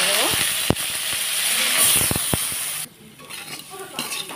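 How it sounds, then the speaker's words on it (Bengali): Potato and cauliflower pieces fry in hot oil in a wok, giving a steady loud sizzle and hiss with a few sharp utensil clinks and stirring scrapes, then quieter sizzling toward the end. "তেল দিয়ে আলু ফুলকপিটাকে একটু ভেজে নেব"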